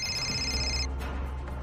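A mobile phone ringtone rings at home during a Hindi TV drama scene, a bright repeating electronic tone that plays for under a second and then cuts off, leaving a low room hum.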